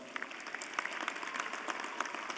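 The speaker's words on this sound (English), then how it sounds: "Let's give our faculty a round of applause." Steady applause from a college commencement ceremony audience, a dense patter of many hands clapping at a moderate distance, continuing throughout without voices.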